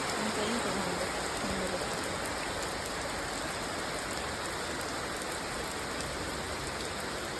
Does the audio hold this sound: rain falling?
yes